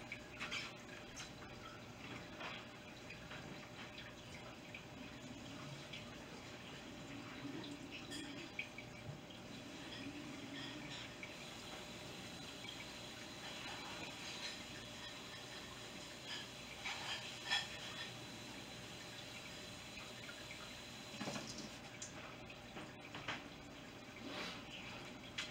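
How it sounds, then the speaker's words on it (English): Water runs and trickles into a rock tumbler barrel holding quartz, a faint, uneven splashing and dripping with small clinks and handling noises close by, with no talking. "let me give this a quick dump and fill up with some brush water there"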